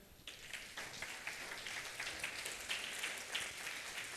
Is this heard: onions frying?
no